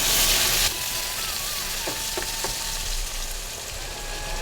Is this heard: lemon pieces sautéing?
yes